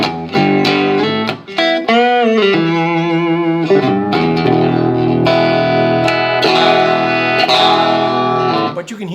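A Stratocaster electric guitar with a bright clean tone plays a run of ringing single notes and chords, loud and close, each note sustaining with a bell-like shimmer.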